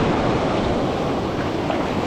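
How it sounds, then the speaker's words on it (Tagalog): Ocean waves breaking on a reef make a loud, continuous rushing roar with no pauses, mixed with wind buffeting the microphone and no voices. "Grabe talaga mga katangay yung alon"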